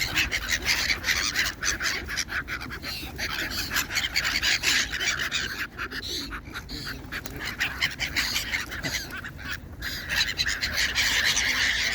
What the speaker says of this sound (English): The seagulls are really on it